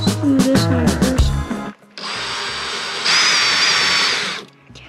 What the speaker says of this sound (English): Let's drill them out.